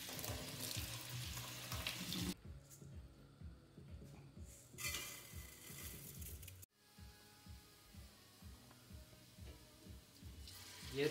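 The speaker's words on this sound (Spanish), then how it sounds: "Use un colador para enjuagar el arroz hasta que el agua corra casi clara." Running tap water pours steadily as rice is rinsed in a strainer for rice pudding, a close splashing rush that breaks off briefly and returns with shifting intensity as the grains are swirled.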